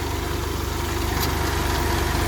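A tractor engine idling close by, a loud, steady low rumble with an even mechanical throb that holds without change throughout.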